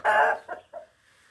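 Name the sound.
chickens clucking in henhouse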